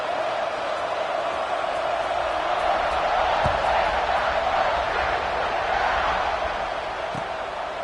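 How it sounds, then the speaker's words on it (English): A football stadium crowd roars steadily through the whole stretch, a dense continuous wall of cheering and noise with a couple of faint thumps underneath. "this crowd is feeling themselves after that last drive"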